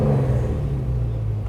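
A deep, steady LS3 V8 engine in a Chevy K5 Blazer idles close by, low and throaty with a slight pulsing throb.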